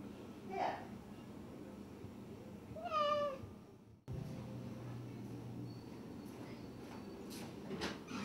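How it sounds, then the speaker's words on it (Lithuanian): A feral cat with a broken jar stuck around its neck meows twice, short and fairly close, over a quiet outdoor background. "kieme laksto laukinė katė ir nudužęs stiklainis jai ant kaklo yra"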